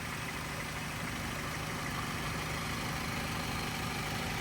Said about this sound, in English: nice and smooth running engine